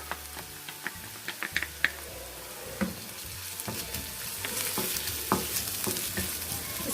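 Onions sizzle in a pan as ginger garlic paste is stirred through them, with sharp spoon scrapes and clicks at first that give way to a denser, continuous frying hiss nearby.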